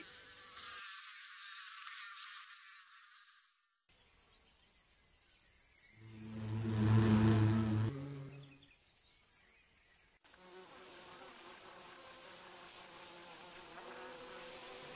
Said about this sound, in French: la plupart des hyménoptères, comme les guêpes, les abeilles et les bourdons